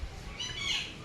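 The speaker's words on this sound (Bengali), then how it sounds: "কত পাখি উড়ে যাচ্ছে।" Birds squawk as they fly off outdoors during a storm, their calls blending into a steady wash of wind noise, moderately loud and continuous for a moment.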